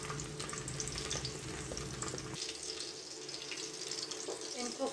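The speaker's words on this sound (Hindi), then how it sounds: "इनको हम 2 से 3 मिनट के लिए फ्राई करेंगे।" Green chillies fry in hot oil in a pan, a continuous hissing sizzle that stays close and even throughout.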